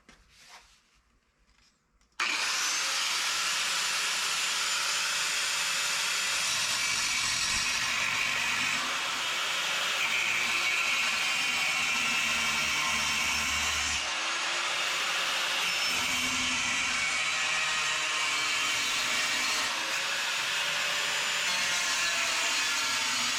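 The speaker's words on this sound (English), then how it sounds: "now that I got my piece all cut out pretty much to the shape that I want it" A steel plate is cut to the contour of a 2006 Ford F-150 frame rail, making a continuous loud, harsh grinding whine that runs steadily after a brief quiet start.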